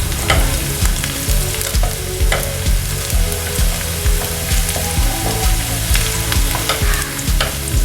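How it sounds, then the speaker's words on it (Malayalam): Onions frying in hot oil for chicken biryani, a loud, steady close-up sizzle with frequent scraping and stirring clatters of a utensil against the pan throughout, and no talking. "അപ്പൊ നമ്മളിത് വറുത്ത് റെഡി ആയിക്കണ ഉള്ളി"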